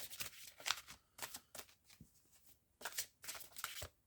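Oracle cards from a Mystical Wisdom deck are shuffled close by, soft papery riffles and flicks coming in quick bursts with short pauses between, quiet and alone.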